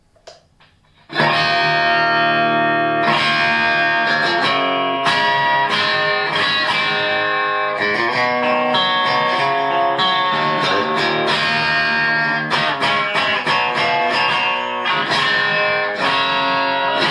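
An electric guitar plays through a custom-built Marshall-style Plexi '69 Lead amp on the high input, first channel. After a brief quiet start it bursts into loud, sustained distorted chords and riffs with no talking.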